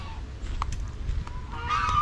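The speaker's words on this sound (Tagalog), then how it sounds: "Yan po ay Philippine goose or gansa po natin." A few short nasal honks from Philippine geese, moderately close, over a low rumbling background with scattered bird calls at a small farm zoo.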